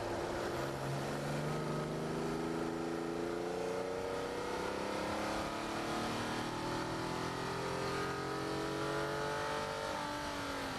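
A Nissan 370Z with an automatic gearbox accelerates around a race track, its engine droning loud and steady as the pitch climbs in long sweeping rises, with constant wind and road roar and no talk.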